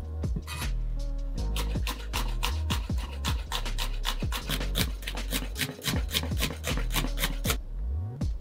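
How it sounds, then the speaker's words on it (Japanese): Shallots are sliced with a knife on a board, giving fast, close, rhythmic cutting strokes with scraping and tapping that run steadily without talk. "これはエシャロットをスライスしてるんですが、玉ねぎでももちろん代用可能です。"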